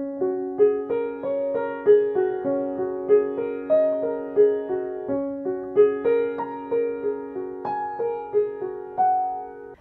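A beginner piano piece, played on the black keys only, comes as a gentle, steady melody over sustained low notes, close and alone with no talking.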